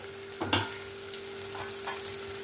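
Spice paste of onion, tomato and green chili fries in a pan with a soft, low sizzle, while a few sharp scrapes of stirring stand out near the start and again toward the end.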